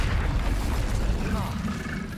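A deep, rumbling blast from the Confringo fire spell in Hogwarts Legacy fills the moment, a heavy booming burst that stays loud throughout, with a voice calling out the spell's name.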